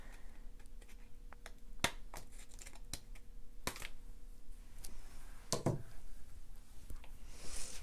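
Scissors trimming a small bit of material on a Dollar Tree Halloween door hanger treat pocket: a series of crisp, close snips at irregular intervals over faint background hiss, no talking.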